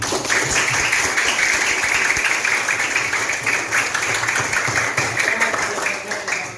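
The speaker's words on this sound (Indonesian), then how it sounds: "tepuk tangan buat kita semua" A class applauds together at the end of a lesson, a sustained, loud wash of clapping from many hands with voices mixed underneath.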